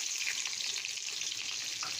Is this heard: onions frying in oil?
yes